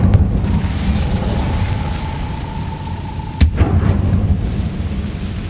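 Incendio fire spell cast in Hogwarts Legacy, a loud continuous rumbling roar with a sharp burst partway through, no voices.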